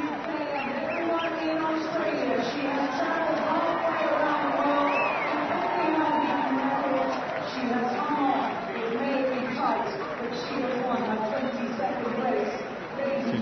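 Large racecourse crowd roaring and cheering as the champion mare Black Caviar returns toward the winner's enclosure after the 2012 Diamond Jubilee Stakes, a steady dense wall of voices with some whoops, under a commentator's talk.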